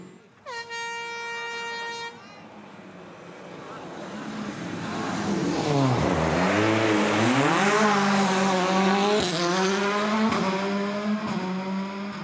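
WRC rally car at the Monte Carlo Rally taking a hairpin, engine rising and falling through gear changes as it accelerates away, loud and close after a brief air horn blast at the start.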